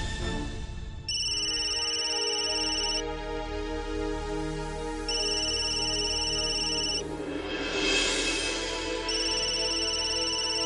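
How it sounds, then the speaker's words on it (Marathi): A mobile phone ringtone rings indoors, a bright repeating electronic melody in loud phrases separated by short pauses, playing alone without any talk. "फोन वाजतोय ना"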